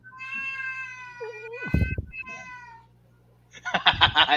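A house cat meows loudly in a drawn-out, wavering call, then gives a second burst of yowling near the end, heard close by with a brief gap of quiet between.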